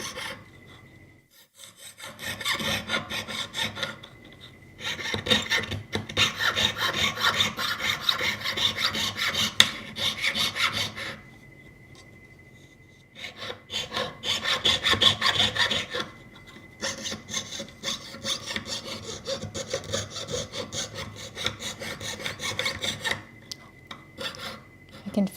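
Hand sawing with a thin blade that is starting to loosen, rapid back-and-forth rasping strokes in long bursts, broken by two short pauses, close and fairly loud, with no talk over it.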